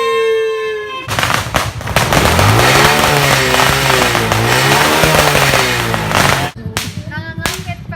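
New Year fireworks crackle and pop in a dense, loud burst lasting several seconds, with a rising whistling tone in the middle and scattered sharp bangs afterward.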